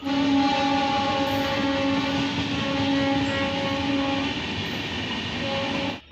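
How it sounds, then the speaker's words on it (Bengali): A near-empty rural railway platform at Janai Road station fills with a steady, continuous train-like rumble and a sustained tonal whine that hold for several seconds, with no talking. "আমি এখন দাঁড়িয়ে আছি জনাই রোড স্টেশনে"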